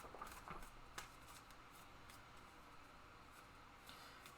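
Playing cards shuffled at a tabletop game session, a soft papery riffle and rustle with faint clicks running steadily throughout, fairly quiet and close.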